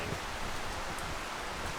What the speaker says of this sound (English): You can hear those gusts that Christian was talking about on the first round.